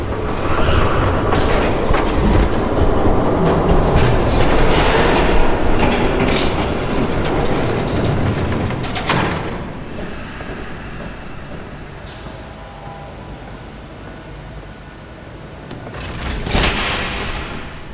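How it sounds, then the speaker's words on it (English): A train rolls past in the Batman Telltale Series video game, a loud, sustained rumble of railcars with clattering wheels and brief squeals, fading slightly midway and swelling again near the end. "There's a train coming."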